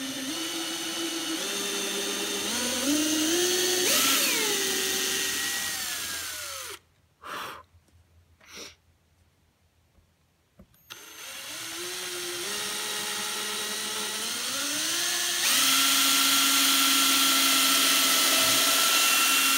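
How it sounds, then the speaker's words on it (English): Power drill boring holes into walnut for dowel skewers, a whining motor that rises in pitch as it spins up, two long drilling passes separated by a quiet pause with brief clicks, loud and close. "let's start drilling some holes for those skewers"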